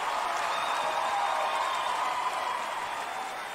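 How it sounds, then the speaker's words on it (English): A ballroom audience claps for the House of Ninja during a Grand March on a vogue competition show, a steady, dense wash of applause that holds evenly throughout. "Y'all give the House of Ninja a round of applause."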